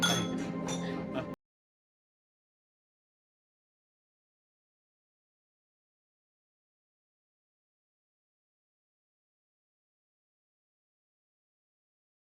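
Glasses clink together during a toast at a dinner in a spy drama, a short bright ringing burst at the start followed by silence.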